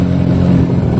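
A new motorcycle engine runs loud and close with a steady, even drone and no talking over it.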